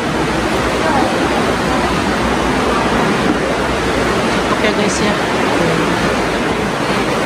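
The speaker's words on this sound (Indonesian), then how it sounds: "ada airnya, banyak airnya tuh, basah, jadi membentuk kayak sungai di dalamnya gua" Water rushing like an underground river inside Marakoopa Cave, a loud, dense, continuous roar filling the clip, with a person speaking briefly over it.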